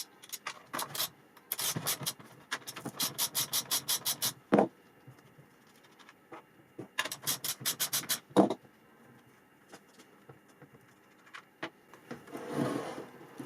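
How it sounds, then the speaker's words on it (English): A 13mm socket wrench ratchets on the two bolts of a McCulloch Mac 335 chainsaw's chain plate, with two long bursts of rapid, even clicks separated by quieter handling and scraping of tools and metal parts. "You're going to need a 13mm socket to get this thing off"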